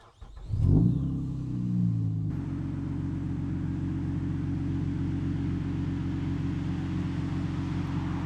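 A supercharged Acura TL-S engine cranks and fires, surging briefly with a loud rev before settling into a steady, rumbling idle that continues close by to the end.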